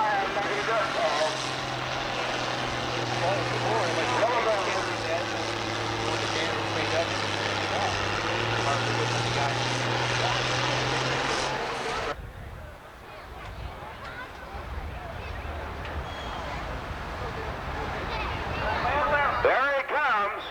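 An International tractor engine roaring at a 1989 county fair tractor pull, loud and sustained for about twelve seconds before dropping away abruptly to crowd and ambient noise, with an announcer's voice over the scene.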